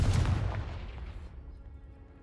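A Confringo fire spell exploding in Hogwarts Legacy, one loud close boom that hits at once and then rumbles away over about two seconds.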